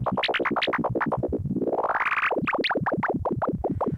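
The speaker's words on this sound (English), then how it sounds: "So if I wanted to take a sound like this on the ARP Odyssey and save it" ARP Odyssey analog synthesizer patch: a rapid, pulsing sequence of buzzy notes with a rising sweep in the middle, loud and close, with no voices.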